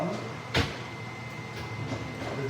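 A kitchen drawer jerked open to take out a fork, one sharp short knock and slide near the start, followed by faint rattles and quiet room sounds.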